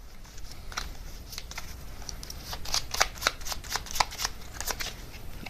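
Tarot cards shuffled by hand at close range, with a quick series of crisp riffles and snaps that grow busier midway, alone with no talk.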